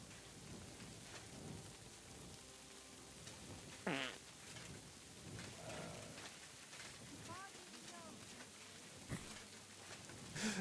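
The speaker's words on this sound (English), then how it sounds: "Fucking Henry just farting up a storm." A character in Kingdom Come Deliverance 2 lets out a short, rising fart, then a few fainter squeaky ones, heard through steady rain and rumbling thunder, with someone talking quietly underneath.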